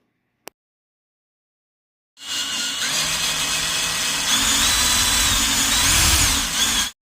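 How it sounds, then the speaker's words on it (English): After a brief click and a pause, a power drill whirs continuously at close range, drilling out metal rivets on a C7 Corvette with a steady, slightly wavering whine. "Next, you want to drill out these rivets."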